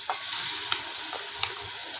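Chopped onions frying in warmed ghee while a kofta dish is cooked: a steady, close sizzle with light stirring taps scattered through it and no voices.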